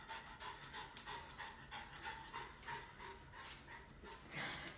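A dog pants steadily close by, breaths coming in quick rhythmic bursts mixed with small whimpering and yipping noises throughout, with no talk.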